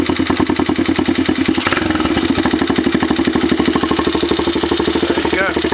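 A Chinese 110cc ATV engine idling low with a rapid, even mechanical chatter and cam chain rattle, close and steady throughout, ending with a faint squeal.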